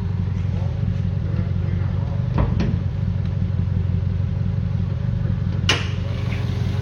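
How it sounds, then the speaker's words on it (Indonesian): A used car's 4-cylinder, 1500 cc carburetor engine idles smoothly and steadily, with a constant low hum, a couple of brief clicks and a sharp clatter near the end. "Mesinnya halus, 4 silinder, karburator, cc-nya 1500 cc"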